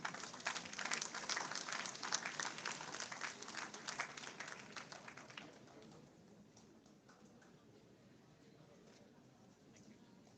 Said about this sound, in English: Can we please give a huge round of applause, everybody?